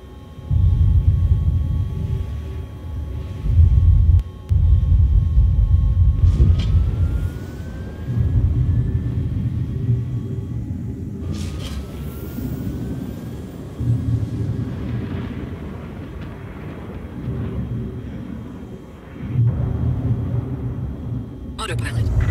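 A spaceship in the video game Star Citizen sets down with its landing gear deployed, a loud low engine rumble with rising whines that swells and fades, under intermittent synthetic voice announcements.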